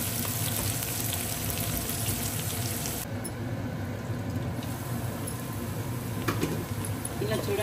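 Mint leaves frying in oil in a pan, giving a dense, steady sizzle and hiss that runs throughout at close range, with faint stirring sounds and no clear talk.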